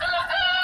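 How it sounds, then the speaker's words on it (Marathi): A children's talking book plays a short, loud recorded rooster crow, a single continuous call with no speech. "कोंबडा कसा आरवतो."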